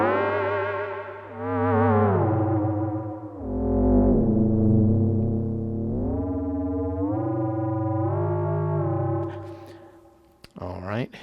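A synthesizer, a Haken Continuum with EaganMatrix, plays gliding, pitch-bending tones with a lush reverberant tail washing behind them, followed by a brief clicky burst at the end.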